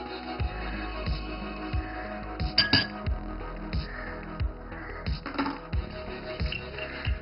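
A spoon stirring vegetable raita in a bowl, with repeated soft scraping strokes and a few light clinks against the bowl, moderately close and steady, with no talk.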